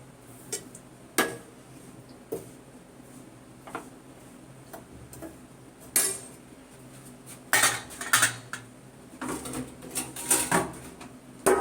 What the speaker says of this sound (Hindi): अब मैं इसको एक थाली में पलटूंगी